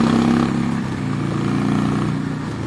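A 2006 Harley-Davidson Sportster 1200 being ridden, its engine droning steadily at close range with a throaty, even rumble and a little rattle, and no voice over it.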